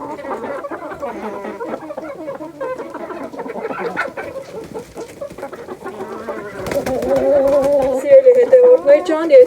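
Chickens cluck and squawk close by throughout, their calls mixing with someone talking over them, growing louder and busier toward the end.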